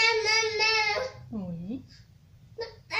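An infant babbles in long, high vocal strings, then gives a short whimpering cry and a few more squeals, close and fairly loud in a quiet room.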